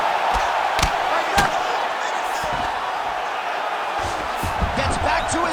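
Heavy punches land in a UFC 5 heavyweight video game fight, a few sharp thuds standing out over a steady roaring crowd while a commentator talks throughout.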